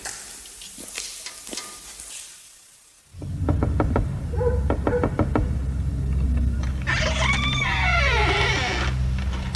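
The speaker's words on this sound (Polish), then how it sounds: "Niepotrzebnie pan puka." Knocking on a door comes as a quick series of sharp, evenly spaced raps, set against a loud, steady background rumble and other clattering noise.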